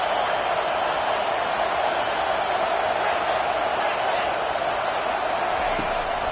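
A stadium crowd roars steadily through a college football game between Notre Dame and Virginia Tech. The dense, unbroken wall of noise stays loud throughout, with a voice talking over it.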